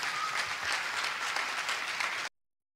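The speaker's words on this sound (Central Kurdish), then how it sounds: "بە چەپڵە ڕێزان بەخێر هاتنی بکەن" An audience at a Kurdish Yalda night storytelling gathering claps to welcome the storyteller, a dense burst of applause that lasts about two seconds and then cuts off abruptly.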